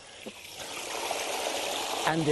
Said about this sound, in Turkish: su akıyor